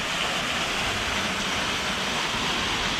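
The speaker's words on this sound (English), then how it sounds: "Really nice waterfall." Paradise waterfall in Sardinia, a steady, dense rush of falling water that fills the whole clip with broadband hiss and roar, close and constant with no voices.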